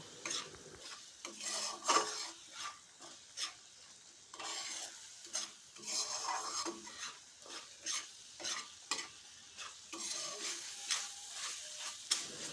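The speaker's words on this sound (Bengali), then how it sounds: "এখন সমস্ত কিছুকে খুব ভালো করে কষিয়ে নিতে হবে যতক্ষণ না পেঁয়াজ রসুনের কাঁচা গন্ধটা চলে যাচ্ছে" A spice masala with onion and garlic is stir-fried in a pan for rajma, with repeated scraping strokes of a spatula over a low sizzle in an uneven rhythm.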